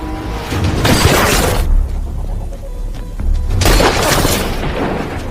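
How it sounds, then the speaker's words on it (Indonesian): A gunfight between two men in a sniper action film plays as loud, dense bursts of booming gunfire and crashing impacts, two heavy waves separated by a brief lull. "Baku tembak antara Simpson dan Brandon pun terjadi."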